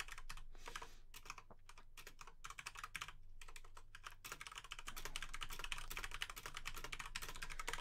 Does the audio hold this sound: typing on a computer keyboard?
yes